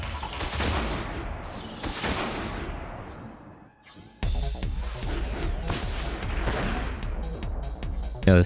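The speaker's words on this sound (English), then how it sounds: "Yeah, this guy has grenades." Grenade explosions and heavy weapon fire in the mecha strategy game Front Mission 5, loud booming blasts with long decaying rumbles, a brief lull, then another string of crashing detonations, with faint voices underneath.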